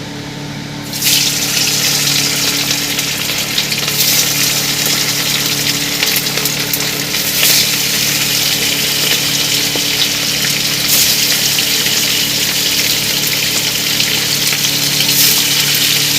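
Several gurjali fish dropped together into hot, lightly salted oil for a fish curry, giving a loud, steady, close sizzle that runs unbroken after a sudden start.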